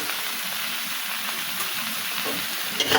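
Shapla (water lily) stems stirred in a frying pan with salt, giving a steady broadband sizzle and soft scraping throughout, close and fairly even, with a brief louder clatter near the end.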